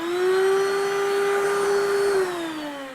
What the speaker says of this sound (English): have a nice vacuum cleaner available